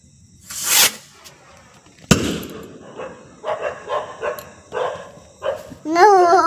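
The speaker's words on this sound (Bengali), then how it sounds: "ওরে বাবা বিশাল আওয়াজ। আমার ডকি মানাচ্ছে। হ্যাঁ রকেট ফাটাচ্ছে।" Two sharp firework rocket bursts crack loudly in the first seconds, then a nearby dog barks several times and finishes with a high whimper.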